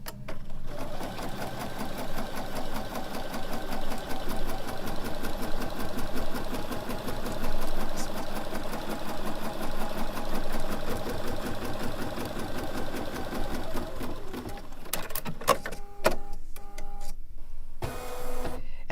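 A BERNINA embroidery machine stitches a white thread design in a steady, fast mechanical rhythm that runs loud and close for most of the clip before breaking into a few sparse clicks near the end.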